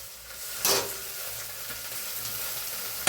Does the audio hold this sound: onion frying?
yes